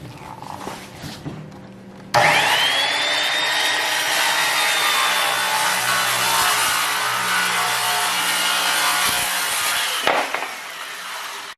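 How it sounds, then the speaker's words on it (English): A power saw rips a plywood sheet into cabinet side panels: a loud, sustained whining cut starts abruptly after a few quiet seconds of handling noises, holds steady for about eight seconds, then stops. "we're taking the final sheet of plywood, we're ripping it for the two side panels and the intermediate panel"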